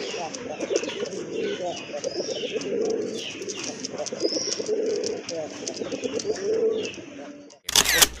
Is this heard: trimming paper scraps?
no